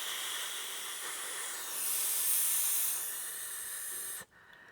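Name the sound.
voice imitating a snake's hiss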